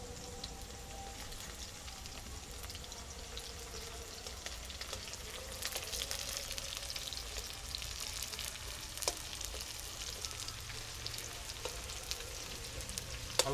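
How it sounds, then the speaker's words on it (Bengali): Onions fry in oil in a pan for a chicken dish, a soft, steady crackling sizzle that goes on for over thirteen seconds, quiet and close, with no one talking. "পেঁয়াজটা হালকা লাল লাল ভাজা হয়ে গেলে আমি মাংসটা দিয়ে দেবো"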